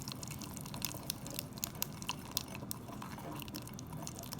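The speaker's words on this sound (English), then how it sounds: "we're just going to whisk it and stir it all together" A small whisk or fork beating chocolate mug cake batter in a mug, giving a quiet, wet, steady scraping and squelching with small clicks against the sides, fairly close and without talk.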